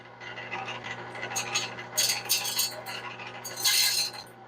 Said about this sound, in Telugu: ఇప్పుడు నేను దీంట్లో కొబ్బరి వేస్తున్నాను